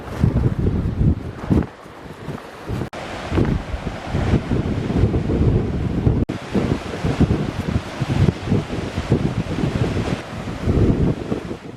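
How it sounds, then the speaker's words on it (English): Strong, gusty wind roars and buffets the microphone on a headland path near Dingle on the Atlantic coast of Ireland as a storm approaches, loud and continuous with a surf-like rush underneath. "the weather is changing and the wind is definitely picking up"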